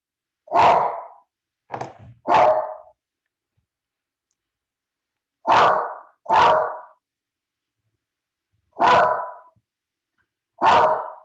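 A house dog barks loudly and close by in repeated sharp bursts, a quick pair and triple near the start, then a few more spaced barks, with silence between them and no talk.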